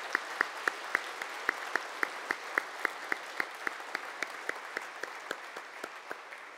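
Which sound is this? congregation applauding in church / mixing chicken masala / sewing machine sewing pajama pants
congregation applauding in church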